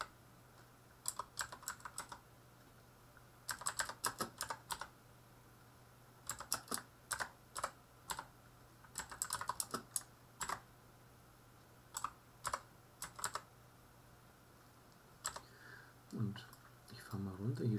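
Bursts of computer keyboard typing come in short irregular clusters at close range and low level, with soft speech faintly in the background and a steady low hum throughout.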